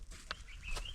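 Chickens being fed give a few faint, brief clucks and chirps close by, with a short sharp peep in the middle. There is no talking, only quiet outdoor background noise.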